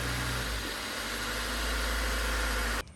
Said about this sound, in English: this is not knocking, that means that we still have a good engine.